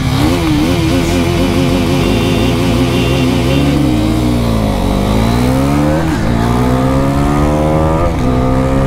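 Pulsar NS400Z and KTM RC390 motorcycles drag racing, engines loud and close, revving hard with pitch climbing through repeated gear shifts and falling briefly between them, continuous for the whole stretch.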